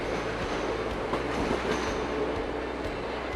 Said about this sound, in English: This is Newcastle Central Railway Station in the northeast of England.